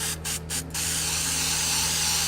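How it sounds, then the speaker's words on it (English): 3M Citrus Spray adhesive remover hisses from an aerosol can, three short bursts followed by one long continuous spray, close and loud. "we're just going to spray this down until it's wet"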